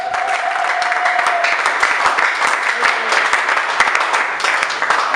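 A church congregation claps and cheers in sustained, dense applause filling the room, with voices mixed into the crowd noise throughout.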